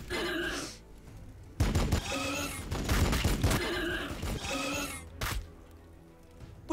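Bursts of gunfire in Warhammer 40K: Battlesector ring out in short volleys amid battle noise, with voices talking and shouting over the fighting.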